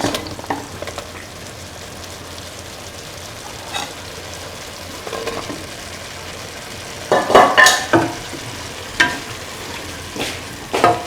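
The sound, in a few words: stirring bottle gourd pieces with beef in a pan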